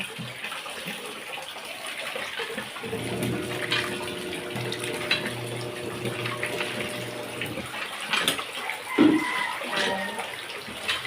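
Water from a pump pours steadily into a basin with a continuous rushing flow and a low mechanical hum, then cuts off near the end; no talking.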